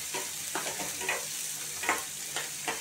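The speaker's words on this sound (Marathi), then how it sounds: "कांदे, थोडे कांदे लाल करू दे" Onions frying in oil for upma, a soft continuous sizzle broken by several scraping stirs of a spoon against the pan, close and fairly quiet, with no talking.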